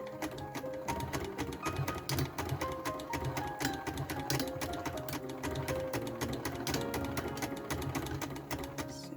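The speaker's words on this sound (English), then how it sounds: "You may notice my sewing machine doesn't squeak anymore because I bought some oil." A freshly oiled sewing machine stitches a vintage hat, running in a steady fast mechanical whir with rapid needle ticks, with a few brief pauses and restarts, close and fairly quiet with no squeaking.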